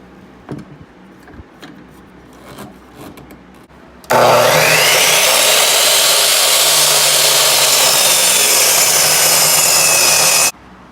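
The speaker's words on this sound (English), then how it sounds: "This is a 45-degree cut. I'm going to do this on my chop saw." A chop saw cuts a 45-degree bevel in wood: after a few light handling knocks the blade whines up loudly and runs through the cut for about six seconds, then stops abruptly.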